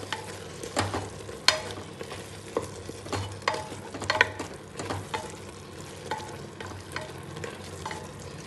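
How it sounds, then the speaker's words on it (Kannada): Mushrooms fry in a pan for biryani, with a soft continuous sizzle broken by repeated sharp scrapes and clacks of a spoon stirring, fairly quiet and close, with no talking. "ಇವಾಗ ಮಶ್ರೂಮ್ ಹಾಕೋತಾ ಇದ್ದೀನಿ."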